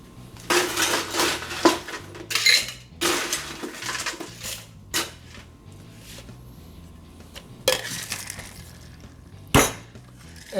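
Ice rattling and clinking inside a cocktail shaker while a low-carb cranberry-lime cosmo is mixed, coming in loud irregular bursts of hard knocks and jangles with quieter gaps, no talking.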